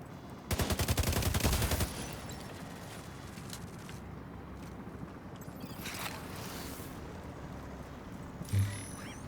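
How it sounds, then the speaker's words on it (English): Automated turrets in a video game fire a dense rapid burst of gunfire lasting about a second. A steady roar of game ambience follows, with a few faint distant shots. "Automated turrets detected."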